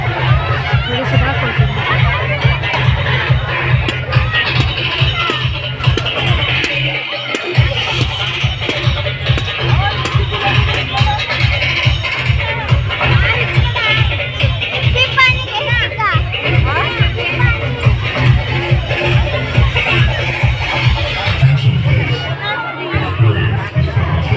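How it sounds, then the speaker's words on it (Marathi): A dense crowd at a village fair (yatra) at night, with a constant loud babble of voices, children and movement and a low rhythmic throb underneath, while people talk nearby. "गर्दी आहे काही शूटिंग होणार नाही आहे"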